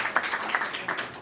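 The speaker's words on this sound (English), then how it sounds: "Let's give another round of applause." An audience at a Kenya–Indonesia business forum applauds, producing a brief, moderately loud patter of many hands clapping together.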